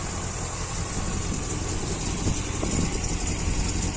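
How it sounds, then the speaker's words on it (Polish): A 1984 Fiat 125p engine idles steadily, a constant rough rumble with no voices, close and fairly loud throughout. "ten klank silnika jest naprawdę"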